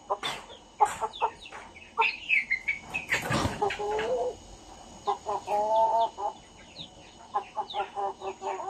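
Chickens cluck and squawk close by while being given eye-drop Newcastle disease (La Sota) vaccine, with uneven bursts of clucking, one sharp loud squawk with a flurry in the middle, and a person's voice faintly in the background.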